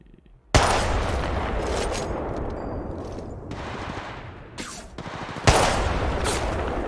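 Sustained bursts of rapid gunfire from Apex Legends Mobile, loud and close, with two long volleys broken by a brief lull.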